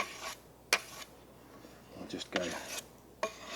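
Bushcraft axe edge rubbed back and forth to work-harden the burr, a few short, close metallic scrapes and rasps separated by pauses, with a brief spoken phrase.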